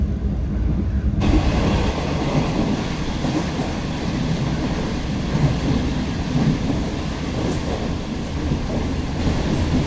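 The Pak Business Express train runs at speed on the rails, a loud, continuous rumble of wheels and carriage noise with faint rhythmic clatter heard from inside a coach.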